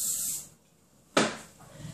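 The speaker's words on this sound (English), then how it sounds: "give the top of it a spritz with your cooking spray" Cooking spray hisses in two short spritzes onto a casserole dish, the first quick burst fading into quiet before a sharper, louder second spray that tails off softly.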